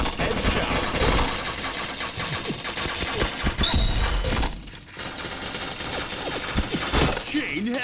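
Dense bursts of gunfire from the online shooter Point Blank rattle almost continuously, loud and close, with a short lull near the middle before the shooting resumes; a voice talks faintly underneath.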